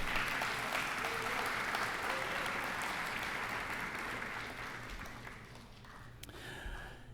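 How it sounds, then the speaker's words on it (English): An audience at a high school senior awards night claps steadily, a dense sustained applause that gradually thins and fades toward the end, heard from within the hall. "Go ahead, you can clap if you like."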